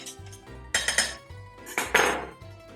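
Garlic is squeezed through a metal garlic press, heard as a series of close metallic clanks and clicks with a few louder scraping squeezes in between; no one speaks.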